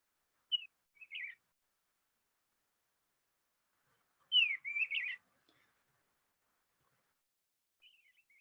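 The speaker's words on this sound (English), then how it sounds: "So that's the primary call of the bluebird." Soft, short warbling bluebird primary calls in clear quiet: two brief phrases, a longer burst in the middle, and a faint call at the end.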